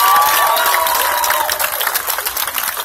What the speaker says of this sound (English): just a big round of applause to the team from the Franklin Institute as well